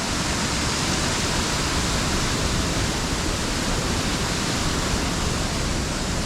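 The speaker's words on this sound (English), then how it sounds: "But this stream is what runs down to join this, the River Swale at that farm cottage." A shallow stream that runs down to join the River Swale, close to waterfalls, rushes in a steady, unbroken wash of water noise, near and fairly loud throughout.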